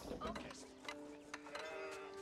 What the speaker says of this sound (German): So, hier die nächsten Schafe ran.